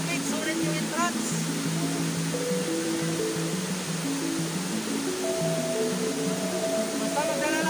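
Kandungos Falls pouring heavily, a dense, constant roar of rushing water filling the scene, with a person talking over it and other voices in the background.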